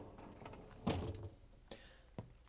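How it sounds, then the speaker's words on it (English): A GE dishwasher door being opened, a short thud and metallic clunk followed by a faint click and a soft knock, quiet and close in a still room. "we have to open up the dishwasher door"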